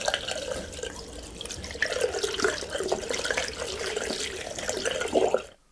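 Water runs steadily from a shower, a continuous close hiss and splatter with a faint dripping texture, alone with no voices, cutting off abruptly at the end.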